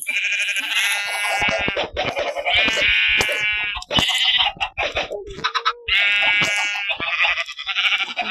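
Repeated sheep bleats in a video game, loud and close, overlapping in a steady series with short gaps, like several animals calling one after another.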